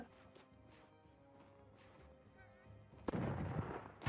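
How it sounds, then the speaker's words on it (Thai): Cannon fire in the battle game Totally Accurate Battle Simulator: a sharp blast lands near the end of the clip, followed by a loud, crashing burst, over a low ongoing game din. "โดนไงล่ะคุมปืนใหญ่เอง"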